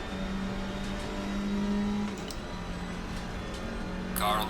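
Race cars in Assetto Corsa Competizione during a multi-class event at the Nürburgring, with a steady close engine drone that rises slightly midway, over light background talk.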